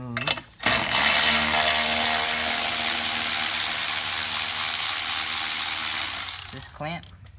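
A ratchet with a 7/16 or 11mm socket works a clamp loose on a 2003-05 Ford Powerstroke Excursion during a cab pull, a loud continuous rapid clicking and whirring running for several seconds, close up, with a brief stop before and after.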